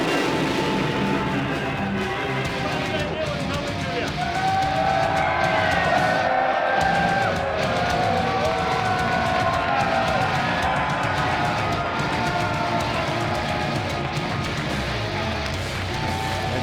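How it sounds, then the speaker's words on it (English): A crowd ovation at a wrestling show fills the arena, steady and loud throughout with sustained cheering and roaring under a continuous wash of noise. "That ovation was for one man and one man only."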